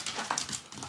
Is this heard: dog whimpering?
yes